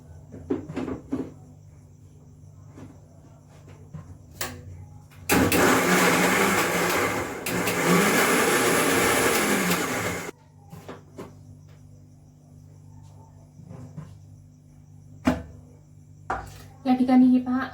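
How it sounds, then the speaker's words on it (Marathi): Kitchen mixer grinder blending garlic, with a loud whirring motor burst of about five seconds, a brief dip, then more spinning, set between quieter household sounds and talk. "आता आपण हे मिक्सरमध्ये फिरवून घेणार आहे"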